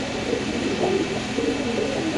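Top-quality Lahori pigeons coo in low, rolling phrases at a pigeon seller's home loft, fairly close, over a steady background hum with some murmured talk.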